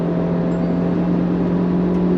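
Engine of a 2022 Mahindra Scorpio N SUV revving hard in second gear near 5,500 RPM, a loud steady high-pitched drone held without break from inside the cabin, no talk.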